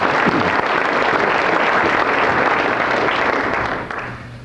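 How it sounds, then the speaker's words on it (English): An audience at a 2002 Chamber of Commerce awards banquet in Fairfield, Iowa claps steadily in a dense, even round of applause that tapers off near the end. "I think the ambassadors deserve a big round of applause"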